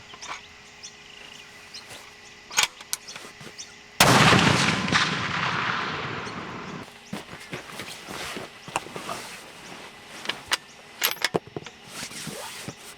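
Rifle shots from a Weatherby Model 307 Alpine CT on an outdoor range: a few sharp, loud cracks, one followed by a long rolling echo, with birds chirping faintly in the background and no talking.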